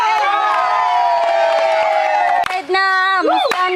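Village crowd cheering and ululating at a celebration for a graduate, sustained high-pitched trilling voices close by, ending in a few sharp whoops.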